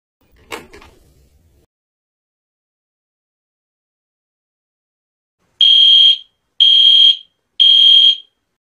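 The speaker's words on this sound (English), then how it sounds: "I'm going to pull the fire alarm" A school fire alarm sounds three loud, evenly spaced electronic beeps after a brief door-like knock and a few seconds of silence.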